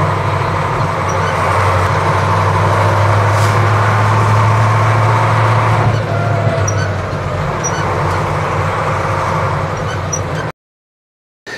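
A modified monster truck engine revving and accelerating, a loud continuous low rumble with a steady drone that dips briefly midway before pulling on, then cutting off near the end.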